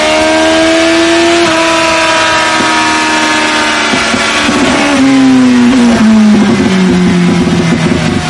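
Suzuki Bandit 1200 motorcycle engine runs loud and close, holding a strong steady drone before its pitch shifts and sweeps downward as the revs change, with no talking.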